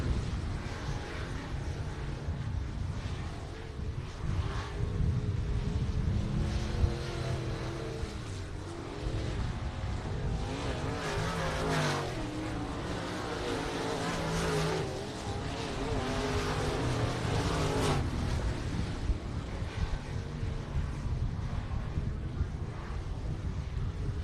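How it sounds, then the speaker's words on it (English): Race cars roar around a dirt short track at a regular race program in South Texas, a continuous blend of near and distant engine noise rising and falling as cars pass, with wind buffeting the microphone. "Love to hear those engine sound."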